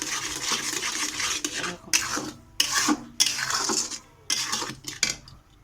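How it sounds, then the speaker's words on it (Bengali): A spoon stirs a coconut and sugar mixture for coconut naru in a pan, giving steady, loud, close scraping strokes broken by short pauses, with no talking. "এরকম অনবরত নাড়তে হবে যতক্ষণ না একটা ডো আকারে তৈরি হয়ে আসে"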